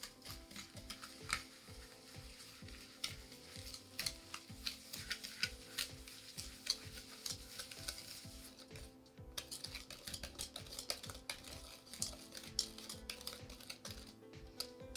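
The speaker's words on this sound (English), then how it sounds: "And just whisk that together until it's nice and fluffy." A whisk beats egg yolks and sugar together in a bowl, making fast steady ticking clicks against the bowl, close and continuous with no talk.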